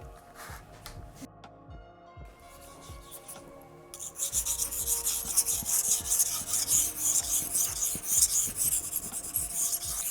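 A knife is hand-sharpened in a traditional way toward a razor finish, with repeated close scraping strokes against the stone that turn brighter and hissier partway through, and no talk.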